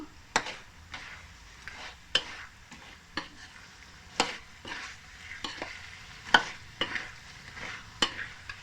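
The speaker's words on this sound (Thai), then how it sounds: "ปูกุ้งปลาหมึกนะเจ้า ลงไปรวน พัดกับพริกแกง" Crab, shrimp and squid tossed with curry paste in a pan, heard as a low background sizzle broken by sharp spatula scrapes and clanks, roughly one every second, close and fairly quiet with no talk.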